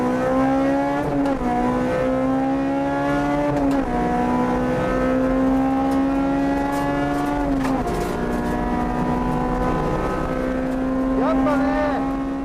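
A Honda Type R drives hard on a track, its engine holding a loud, strained tone that drops sharply at each gear change and climbs again, with wind noise throughout.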